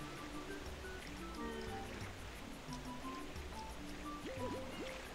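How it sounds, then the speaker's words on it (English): A waterfall in Super Mario Sunshine, a soft continuous trickling rush of water under tonal game music, faint and steady throughout. "It's a waterfall."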